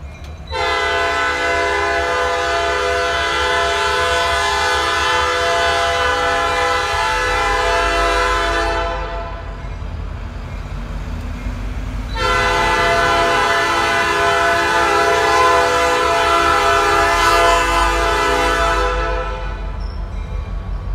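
A West Virginia train pulls north through a crossover near a grade crossing, its loud horn blowing two long sustained blasts separated by a short gap, over a steady low rumble of the moving train.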